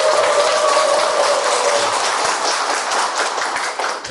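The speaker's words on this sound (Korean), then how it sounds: "우리 스스로를 위해서 우리 박수 한번 쳤으면 좋겠습니다" Adult students at a Won Buddhist study evening break into hearty crowd applause in a lecture hall. The dense, steady clapping fills the room and carries on without a pause for several seconds, with no voices over it.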